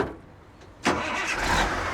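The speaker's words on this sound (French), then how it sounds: "Le moteur vrombit gaiement." A garbage truck engine cranks briefly after a quiet moment, then catches and revs into a loud, close, steady running roar.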